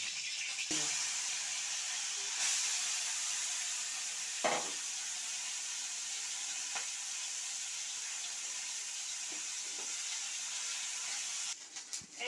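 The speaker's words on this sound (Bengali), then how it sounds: "এই দেখুন, মাছগুলো আমার ভাজা হয়ে গিয়েছে। এখন মাছ ভাজাটা আমি তুলে নিচ্ছি।" Fish pieces seasoned with salt and turmeric fry in oil in a kadai, giving a steady, even sizzling hiss throughout with a few faint clinks and stirring knocks.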